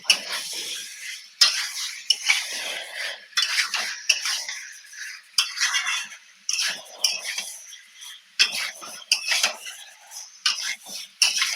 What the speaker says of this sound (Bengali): সেদ্ধ করে রাখা আলুগুলো দিয়ে দেব দিয়ে ভালো করে মশলার সাথে কষিয়ে নেব